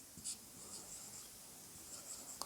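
Pen writing out a math calculation on paper, faint soft scratchy strokes in short bursts with a few brief sharper ticks, close and quiet with no talking.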